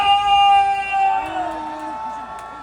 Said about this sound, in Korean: 승리를 위해서 여러분의 함성 3초간 발사!